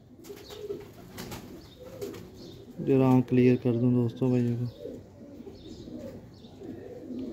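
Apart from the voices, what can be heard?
Kamagar pigeons cooing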